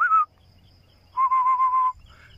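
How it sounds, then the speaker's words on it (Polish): A person whistles to call a dog outdoors, one short high note followed by a longer steady whistle, then a brief third burst, clear and close over a quiet background. "W Portugalii chyba inaczej się na psy gwizdze."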